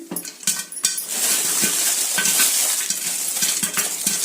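A metal lid clatters onto a pot of popcorn kernels frying in oil, a few sharp clinks followed by a steady sizzling hiss.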